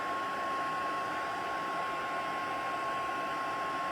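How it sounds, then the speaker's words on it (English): An embossing heat tool blowing hot air during card making, a steady close whooshing hiss with a constant whine and no pauses. "Once your heat tool heats up, it goes pretty quickly."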